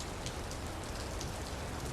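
Rain falls steadily as a dense, even hiss of drops striking a surface, with no voices over it.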